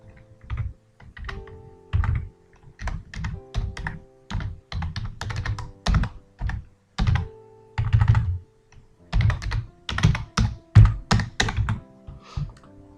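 Keys clack steadily on a computer keyboard as a college name is entered into an online admission form, with quick bursts of close, crisp keystrokes separated by short pauses and heavier thunks on some presses.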